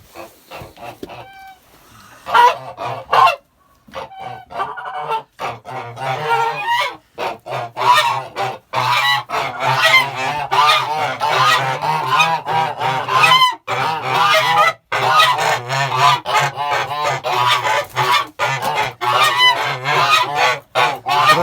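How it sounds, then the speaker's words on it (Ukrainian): Geese honk loudly and continuously, a dense overlapping chorus of harsh calls close by, with no pauses beyond brief dips. "Зараз ми її випустимо до наших гусей, побачимо, як вони її приймуть."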